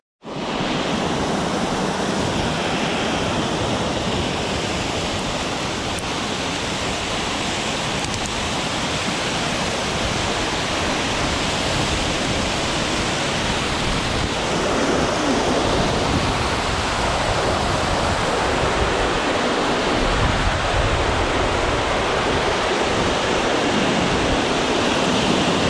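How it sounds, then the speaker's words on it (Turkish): A waterfall pours in a forest setting, a loud, steady roar of rushing water that fills the whole stretch without pause, heard up close and alone with no voices. "biraz seyrettiyseniz şelaleyi"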